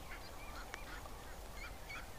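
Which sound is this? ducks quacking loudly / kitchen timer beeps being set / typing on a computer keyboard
ducks quacking loudly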